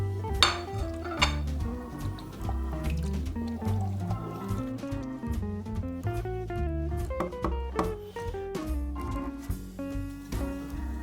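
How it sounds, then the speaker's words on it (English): Goulash with aromatics, salt, pepper, sweet paprika, caraway and nutmeg is stirred in a pot, giving repeated clinks and scrapes of a utensil against metal and wet squishing, loud and close, over background music. "Give it all a really good stir."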